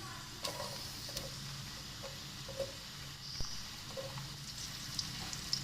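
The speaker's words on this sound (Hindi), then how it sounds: "इसको गर्म करके इसमें मैं प्याज ऐड करूँगी" Onions frying in hot oil in a pot give a soft continuous sizzle, with light ticks and occasional stirring scrapes at a low, steady level.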